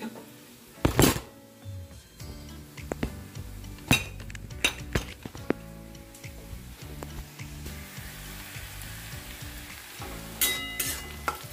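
Egg curry with fried onion, boiled eggs and potato cooking in a home kitchen: a pan sizzles steadily while utensils clink and scrape against it in scattered bursts, with a few sharp taps.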